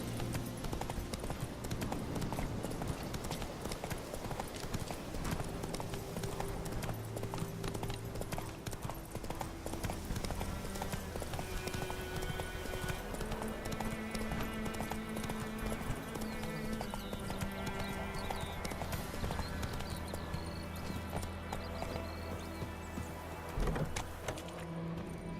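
Roach, Geralt's horse in The Witcher 3, trots along with a steady, close clip-clop of hooves that runs the whole stretch beneath a layer of game music.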